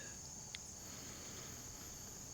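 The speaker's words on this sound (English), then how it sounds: "And those are crickets, not cicadas." Steady high-pitched cricket chirring runs continuously at a constant level over a quiet background with no voices.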